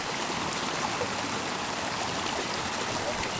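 Cold mountain spring water flows steadily as a water filter is filled outdoors on a wilderness hike, a constant close rushing trickle with no breaks.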